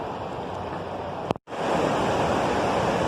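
Water rushes steadily beneath a small forest bridge in the woods near Annette Lake, a broad continuous hiss, with a brief click and near-silent dropout midway before the flow resumes just as loud.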